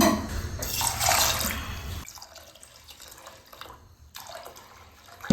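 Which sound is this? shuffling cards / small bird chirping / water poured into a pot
water poured into a pot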